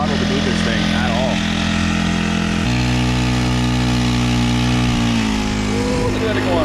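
A Honda 35cc engine mounted on a Hobie kayak runs loud and close, a steady droning hum that shifts pitch slightly as the throttle changes, with a voice briefly over it.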